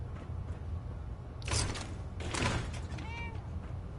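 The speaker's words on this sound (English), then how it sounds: "I heard a cat." A cat meows in the video game Fallout 4, short mews over a low game ambience with two brief bursts of noise, fairly close and not loud.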